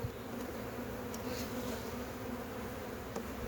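A honeybee swarm being hived hums in a steady, faint, continuous buzz with a few individual bees passing nearer now and then.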